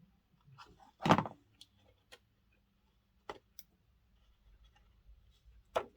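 Scissors cutting paper pocket pieces for steampunk-style journal cards in a craft room, giving a few crisp, separate snips spaced seconds apart against near silence.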